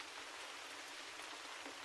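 Rain falls in a soft, even, continuous patter, fairly faint and unbroken, with no voices or other sounds over it.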